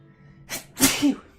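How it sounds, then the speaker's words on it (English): A single sneeze near the mic: a short sharp inhale snap followed by a louder, bright burst with a brief voiced tail, alone without talk. "I can feel that sneeze coming back now."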